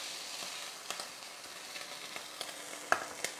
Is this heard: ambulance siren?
no